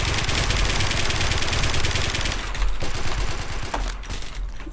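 Rapid automatic gunfire from the video game Warmode, a dense continuous burst of shots that rattles steadily throughout, with engine-like rumble underneath and a few sharper bangs near the end.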